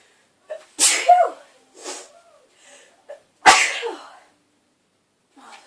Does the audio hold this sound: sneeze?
yes